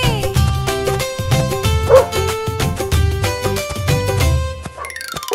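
A cartoon dog in a Hindi children's song barks in a lively repeated rhythm over bright tuneful music, the yips and woofs falling on the beat throughout.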